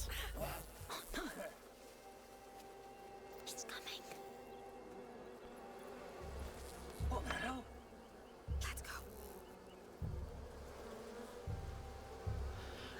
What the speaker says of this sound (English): those bees seem pretty rattled